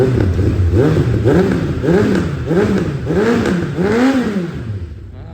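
A 2004 Suzuki Bandit 1200 inline four-cylinder carbureted motorcycle engine revs repeatedly, rising and falling in pitch five or six times in a rhythmic, throaty sequence, close and loud.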